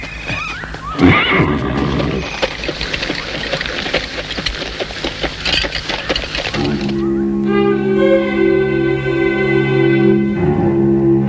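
A horse whinnies once near the start, close and loud, over busy background noise; steady sustained music takes over in the second half.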